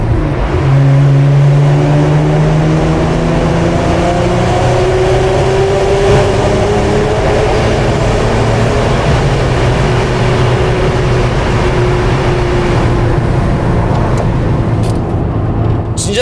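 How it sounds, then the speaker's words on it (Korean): A Hyundai Genesis Coupe V6 accelerates through a tunnel, its loud exhaust drone climbing steadily in pitch and echoing off the walls, with no talking over it. "배기음 드디어 한번 들어보는 건가?"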